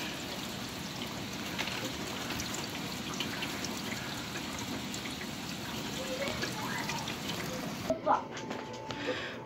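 Steady rain falls outside on a wet day, a dense continuous hiss and patter with trickling water, fairly close, ending abruptly near the close.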